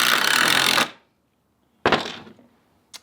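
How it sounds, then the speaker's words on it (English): Two cordless impact drivers, an older DeWalt DCF887 and a newer Milwaukee 2857, are raced against each other: a loud burst of rapid hammering, then a silent gap and a second shorter burst, followed by a brief click. "Old DeWalt versus new Milwaukee"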